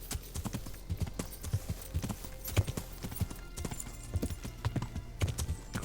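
Horse hooves clip-clop in a steady rhythm in the medieval video game Kingdom Come Deliverance, fairly faint and alone without talk.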